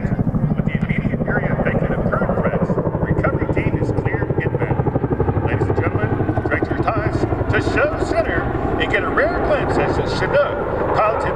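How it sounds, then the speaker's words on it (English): A US Army CH-47 Chinook tandem-rotor helicopter flies at an airshow with a loud, rapid, steady rotor thump throughout, while an announcer talks over it. "that is the Chinook."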